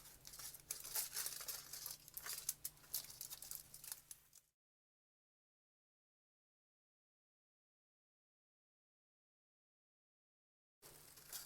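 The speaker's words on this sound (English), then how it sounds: "I wrap the foil around, and I'm squeezing it as I go so it's not too loose." Aluminum foil crinkles and crumples as it is wrapped and squeezed around the leg of a foil cat sculpture, close and busy for about four seconds before falling silent.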